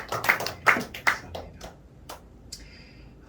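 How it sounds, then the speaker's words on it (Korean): A church congregation claps at the start of worship, a few loud sharp claps that quickly thin out and fade, with a brief spoken word over them. "우리 예배를 시작하면서 한번 크게 박수 올려드리고 시작하겠습니다."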